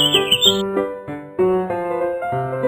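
Bright, quick bird chirps ring out for about half a second over a bouncy children's counting-song melody, then the tune carries on alone.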